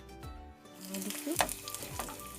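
Garlic and ginger hit hot oil in a pan for chowmein, giving a steady close sizzle with stirring scrapes, while a voice speaks over the frying.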